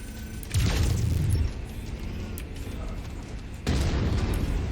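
Deep booming blasts of missile explosions in MechWarrior 5 land in two heavy hits with a rumbling mechanical din between them.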